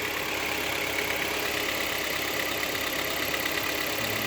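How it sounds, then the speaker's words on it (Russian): A 2014 Kia Cerato engine idling as the revs settle, giving a steady, close mechanical drone with a faint light ticking from the pistons running underneath it. "цоканье поршней, наверное"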